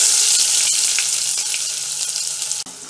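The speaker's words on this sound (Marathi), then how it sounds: "आता कांदा टाकून घेऊया." Chopped onion drops into hot oil with curry leaves in a pan for a Kolhapuri-style crab curry, giving a loud, continuous hiss and sizzle close up, with faint scraping and stirring.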